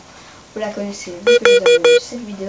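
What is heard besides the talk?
tablet low-battery warning beeps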